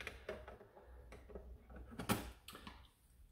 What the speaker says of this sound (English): Screwing that back in.